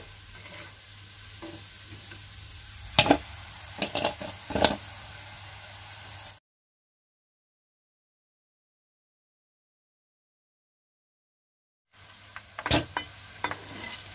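Onion kodubale frying in hot oil gives a soft, steady sizzle, with a few sharper stirring clinks near the middle, then a silent gap before the quiet bubbling and scraping resume.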